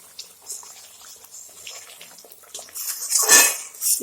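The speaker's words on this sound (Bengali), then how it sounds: "আমি এসবটা দিয়ে দিলাম ভালো করে মিলিয়ে নেব" Koi fish curry with a spoonful of raw mustard oil gets stirred in a pan, a spoon scraping and clinking against metal with wet sloshing that grows busier and louder toward the end.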